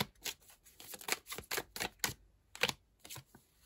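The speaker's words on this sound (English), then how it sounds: "Let's pull some more cards." Tarot cards pulled and shuffled from a deck, a quick run of crisp close slaps and flicks in an uneven rhythm, moderately quiet with no talking.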